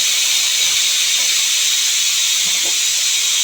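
Loud, continuous hiss of steam rushing out of a pressure cooker whistle while cooking lentil curry, steady and close without pause.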